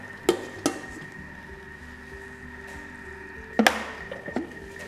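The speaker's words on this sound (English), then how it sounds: "using the reverse blade, it actually can cook up a really nice seared prawns" Prawns sear inside a Thermomix running its reverse blade, giving a steady low hum with a faint sizzle, broken by a few sharp metallic clinks and knocks of utensils against the bowl, close by.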